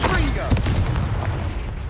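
Confringo spell explosion in Hogwarts Legacy: a loud, dense booming blast with crackling bursts and rumble throughout, close and continuous, with a voice mixed in.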